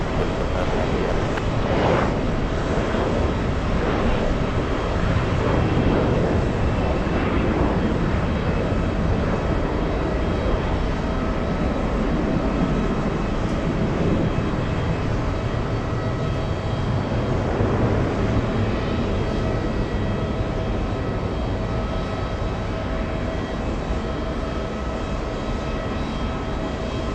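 An airliner on the Orlando flight rumbles past at JFK airport, a steady, broad engine roar holding throughout with no clear rise or fade.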